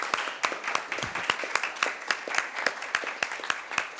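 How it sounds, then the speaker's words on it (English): An audience claps for volunteers at a town council meeting, a steady spatter of individual claps with a few people clapping at a moderate pace in a room, with no talk over it. "receive a rousing applause from the audience"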